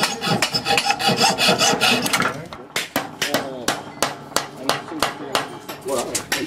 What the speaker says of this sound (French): Je scie les clous, oui.